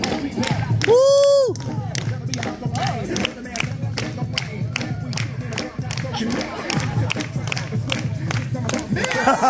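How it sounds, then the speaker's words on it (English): An audience at a Central Park street acrobat show in New York City claps in a steady rhythmic beat, dense and close, while a performer shouts and a whistle-like cry rings out briefly. "Everybody clap your hands."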